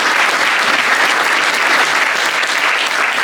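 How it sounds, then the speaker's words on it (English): Dense, loud applause from an audience at a motivational talk about a race, a steady wash of many hands clapping throughout with no speech. "please give yourselves another big warm round of applause"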